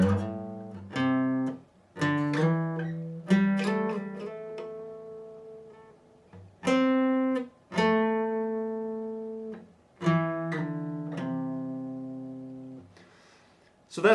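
Slow run-through of part one of a guitar solo: a series of plucked guitar notes and bends in separate phrases with short gaps, clear and close, no voices.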